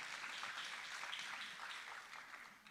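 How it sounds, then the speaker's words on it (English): An audience at the City of South Fulton State of the City 2025 event claps, a faint, even wash of applause lasting a few seconds and fading slightly at the end. "you can clap for that. You can clap for that."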